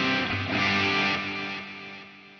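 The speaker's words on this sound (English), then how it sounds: "It's a crunch tone. Now with delay and reverb." Crunchy overdriven electric guitar with delay and reverb, run through a Plethora X5 pedalboard in a four-cable setup, rings out as a sustained chord that swells and slowly fades, echoes trailing behind.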